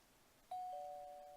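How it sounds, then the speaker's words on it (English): A two-tone doorbell chime in the visual novel game Amnesia Memories rings once, clear and sustained, with the second tone overlapping the first as it slowly fades, alone against a quiet background hum. "Ding dong! Looks like someone's here."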